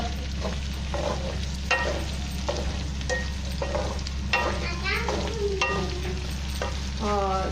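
Onions and capsicum stir-fry over high flame with a constant sizzle and regular spatula scrapes against the pan, while a voice speaks briefly over the cooking.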